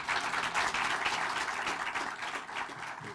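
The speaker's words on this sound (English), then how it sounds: "Let's give all of them another round of applause." Audience applauding at a groundbreaking ceremony for a translational medicine institute, a steady dense wash of many hands clapping throughout at moderate volume, with no talking over it.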